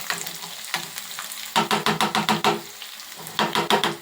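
Food sizzling in a hot pan, with bursts of crackling and a run of rhythmic scraping stirs in the middle and again near the end, close and fairly loud.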